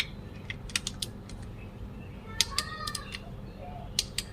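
Several quiet mechanical clicks from a torque wrench set to 25 newton-metres, tightening intake manifold bolts on an Isuzu 1.9, come in short bursts, a tight ratcheting snap repeated a few times over a low background hum.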